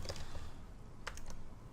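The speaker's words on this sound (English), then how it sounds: "I'm typing that into chat right now" Quiet, brief keystrokes on a computer keyboard, a short cluster of taps at the start, then a quick burst of typing a second later, close and soft.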